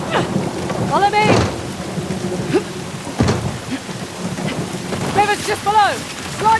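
Heavy pouring rain hisses steadily in Uncharted: The Lost Legacy, broken by sharp thunder cracks and rumbles, with short voiced calls rising over the storm at moments.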